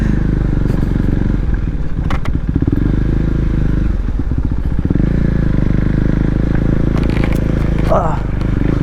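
A KTM Duke 390 motorcycle rides off-road, its engine droning loud and close throughout. Rattling and thumping from rough ground break through at intervals, and a voice can be heard briefly beneath the engine.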